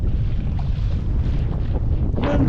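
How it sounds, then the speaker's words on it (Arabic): Wind gusts buffet a fishing boat at sea, making a steady, loud low rumble that fills the whole stretch with no voices. "وكاين الريح"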